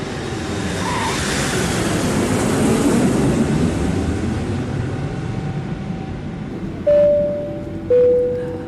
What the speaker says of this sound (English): We just touched down.